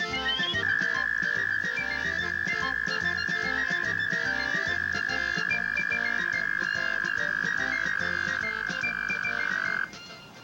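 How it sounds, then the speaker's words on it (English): Frogs croak in a dense, rhythmic chorus of repeated calls, with one sustained whistling trill running over them for most of the stretch until it stops near the end. "And frogs can produce astonishing music."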